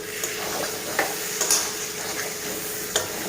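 Prawns and pointed gourd sautéing in a pan in a village kitchen, a steady low sizzle with scattered stirring scrapes and a few sharp clicks of the spatula against the pot, close by and alone without talk.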